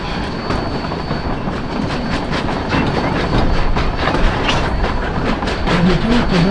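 Train ride behind steam locomotive D&RGW 491 at the Colorado Railroad Museum, a continuous close rumble of rolling coaches with clickety-clack beats over rail joints and occasional faint wheel squeal.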